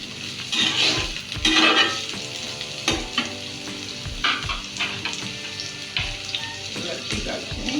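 Chopped onions and small-cut potato pieces frying in a pan for liver and potato curry, a loud close sizzle with repeated stirring and scraping knocks against the pan, no voices.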